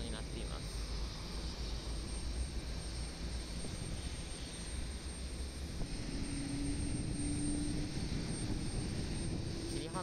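An airliner's engines spool up at Osaka Itami airport after pushback, a steady broad roar that grows slightly louder and holds continuously throughout, with a faint tonal whine rising underneath.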